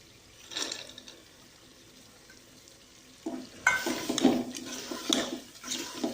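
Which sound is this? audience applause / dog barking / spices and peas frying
spices and peas frying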